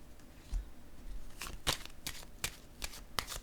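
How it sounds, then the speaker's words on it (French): Tarot cards handled and laid down on a spread: a series of soft, close papery flicks and slaps, about half a dozen brief card sounds in quick, uneven succession over quiet background. "Je vais juste déposer une carte sur le paradis."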